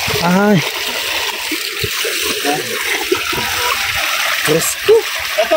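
Water flows and splashes steadily in a remote place, a loud rushing stream heard close by while several people talk over it.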